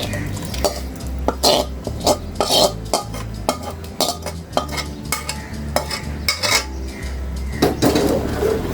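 Cooked spice mix for beef nehari tipped into the pot, heard as a run of clattering metal clinks and scrapes of utensils against the pot, fairly loud and close, with no talking.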